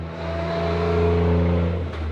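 Small Fitty Pitter pit bike engine revving alone, a buzzy rising and sustained tone held briefly before dropping off.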